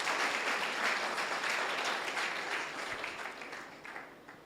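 An audience claps at a grassroots innovation talk, a dense sustained wash of applause that slowly fades over a few seconds with no voices.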